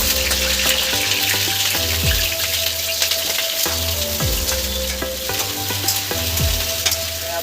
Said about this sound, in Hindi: गोभी को पहले फ्राई करेंगे।